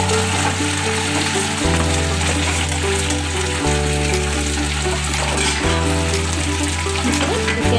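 Chicken for chicken 65 frying in a pan with hot oil gives a steady sizzle throughout, while a rhythmic low repeating tone runs underneath.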